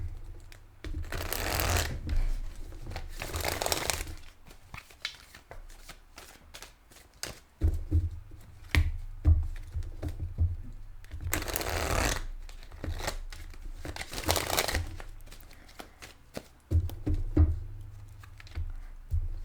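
Tarot cards shuffled by hand, four loud riffling bursts with softer card handling and light tapping between them, recorded close.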